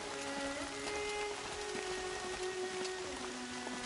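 Steady rain patters across a landscape in Horizon Zero Dawn, a continuous hiss of drops on surfaces with faint tonal music and ambient hum running beneath, no voices.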